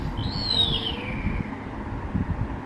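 A talking chick house toy gives a soft electronic sleeping sound, a falling whistle-like chirp over a low background murmur, brief and close.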